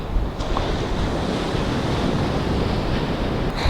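Ocean waves wash steadily onto the beach at Myrtle Beach State Park on a morning, with constant surf and wind rumbling against the microphone and no voices.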